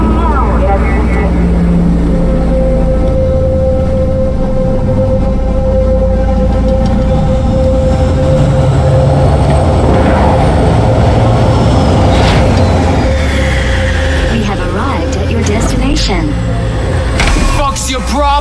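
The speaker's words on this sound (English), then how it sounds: "Initiating landing sequence based on new parameters." Loud, continuous engine roar and hum of a vehicle going through a landing sequence in Cyberpunk 2077, with a steady tonal drone and rumbling low end throughout, plus shifting whooshes and mechanical clanks near the end.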